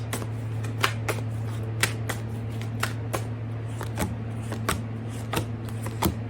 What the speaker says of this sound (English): And whenever I shuffle, like with that, the sound